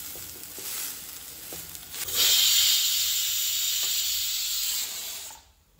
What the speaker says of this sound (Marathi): कुकराची सिटी आयली.